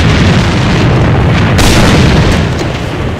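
An enemy grenade explodes in the AVA shooter game, a loud, sustained booming blast with dense low rumble that fills the whole moment, with no talking over it.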